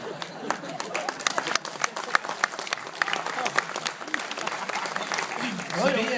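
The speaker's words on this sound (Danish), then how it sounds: "Hvis det er det, man klapper af i den her by, så er det jo fint." Applause from a comedy show audience, with many hands clapping in a dense, uneven patter and some crowd noise, fairly loud and sustained, with a voice rising near the end.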